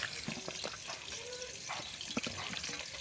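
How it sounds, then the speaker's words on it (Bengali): Cut eggplant being washed in water, with continuous splashing and swishing of water and pieces being handled, close and moderately loud, plus small clinks. "বেগুনটা কাটা হয়ে গেছে, ধুয়ে নেব ভালো করে।"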